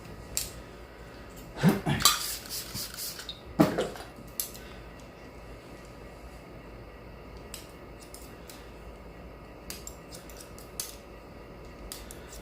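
Scissors snipping hair during a layered bob haircut, a few crisp metallic snips near the start, then faint scattered clicks over quiet room tone.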